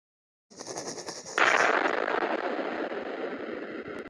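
A homemade bomb, lit with a lighter, goes off with a sudden loud burst of noise that swells and then holds as a long, rough, roaring blast.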